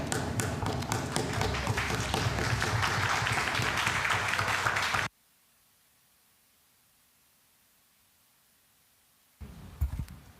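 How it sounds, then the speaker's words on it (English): Applause fills a parliament chamber, a dense, steady clapping that stops abruptly, followed by several seconds of near silence before a few louder taps and thumps return. "you're not allowed to clap or applaud anyone"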